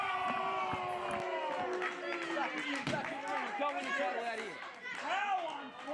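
A wrestling crowd at an Australian show roars and chatters loudly throughout, with scattered cheers and slams from the ring, while a commentator talks over it.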